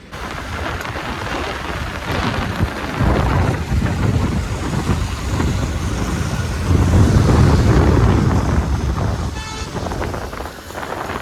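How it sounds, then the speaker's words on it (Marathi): Light drizzle outdoors: a steady, moderately loud wash of rain noise with low rumbling from wind or traffic and no talk, swelling slightly near the end. "बारीक पाऊस आहे"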